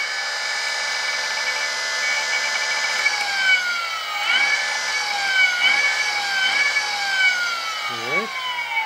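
A Golden Motor 5KW BLDC electric motor spins under throttle from its controller, giving a steady, close electric whine whose pitch drops and rises several times, with a few faint knocks.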